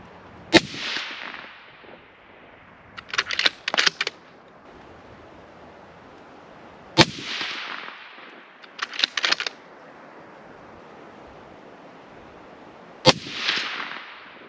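Three sharp precision rifle shots, Ruger or Savage 110 firing Hornady Black 168 grain AMAX ammunition outdoors, each a loud crack with a trailing echo, spaced about six seconds apart, with fainter clicking bolt handling between them.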